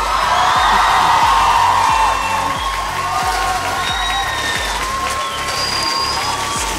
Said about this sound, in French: On applaudit bien fort nos deux majors de promotion.